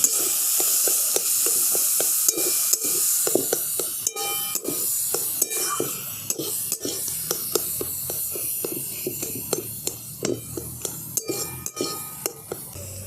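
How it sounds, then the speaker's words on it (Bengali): Boiled lentils hit hot oil tempered with asafoetida and cumin, giving a steady loud sizzle and hiss broken by frequent sharp clinks of a spoon against the pan. "এই ডালটাকে আমি দিয়ে দিচ্ছি তেলের মধ্যে।"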